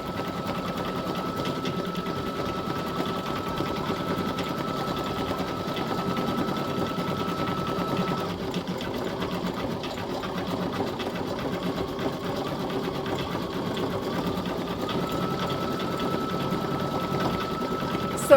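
An embroidery machine runs steadily, a continuous near, moderately loud mechanical hum with rapid stitching rattle and a faint whine, droning on unbroken without talk.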